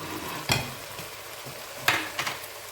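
A spoonful of tomato paste being stirred into a simmering spicy Senegalese-style red sauce, giving a low hiss with a few sharp spoon knocks and scrapes, no voices.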